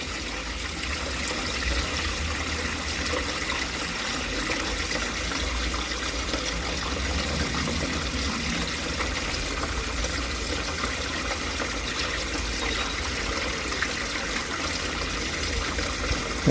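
Water pours steadily into an industrial wheelie bin being turned into a koi grow-on tank, a continuous close splashing rush that holds at an even level throughout.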